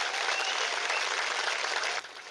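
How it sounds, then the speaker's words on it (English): An audience applauds guests on a panel at a discussion event, a dense, steady wash of many hands clapping that thins out near the end. "let's have a warm round of applause for our guests."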